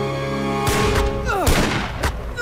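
Gunfire erupts in a Bengali film scene: several loud booming shots over a sustained musical tone, with a sharp ricochet-like whine and a final blast.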